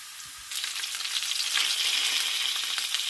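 Chopped onions frying in a pan, a close, steady crackling sizzle that jumps louder after a quiet start and then holds.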